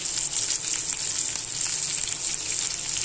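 Spices, red chilli, turmeric, green chilli, mutton masala and coriander powder sizzle and fry steadily in a hot pan, a continuous close hiss with faint stirring throughout and no voices.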